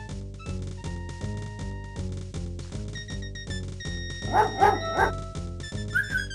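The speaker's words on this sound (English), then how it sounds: "A mangy old dog digs playfully at the huge anthill" A cartoonish dog barks and yips in King's Quest 5 while digging at an anthill. Short barks repeat over looping chiptune game music, with a brief whimpering flurry partway through.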